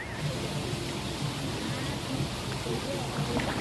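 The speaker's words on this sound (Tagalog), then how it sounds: "Uy, umuulan, mababasa tayo" Rain falls at a waterpark resort as a steady, even hiss of drops spread across surfaces, with voices talking faintly beneath the wash of noise.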